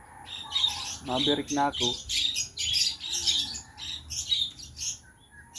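Racing pigeons arrive at their loft amid bursts of chirps, tweets and squawks close by, with someone speaking briefly in between.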